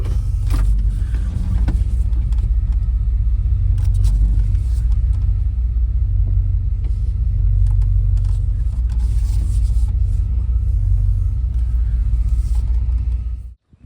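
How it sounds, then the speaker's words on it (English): A Chevy OBS truck engine idles steadily, parked on level ground, with a loud, even low rumble that holds for about thirteen seconds before cutting off abruptly at the end. "So I let the truck run for a little bit."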